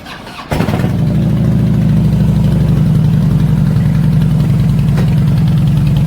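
A Harley-Davidson Heritage motorcycle with ape-hanger handlebars fires up with a sharp start, then settles into a loud, steady, rumbling idle close by.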